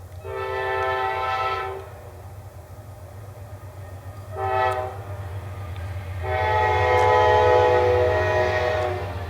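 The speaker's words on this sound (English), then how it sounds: "I'm going to let this train go by." A passing train sounds its horn in three loud blasts, a short one, a brief one and a long sustained one, over a constant low rumble of rolling wheels nearby.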